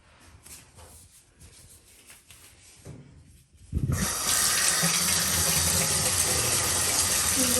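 A few quiet scrapes and handling noises, then water from a water cooler suddenly gushes out and keeps pouring steadily and loudly, rinsing off a surface cleaned with Scrubbing Bubbles foam bleach.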